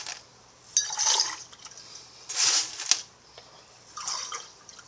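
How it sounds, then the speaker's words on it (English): Aquarium gravel is poured into a glass jar for rooting lucky bamboo cuttings in three separate bright rattling pours, the small stones clinking against the glass, with a faint steady hum between them. "I'm going to add a little of the Aquarium Gravel to my jar"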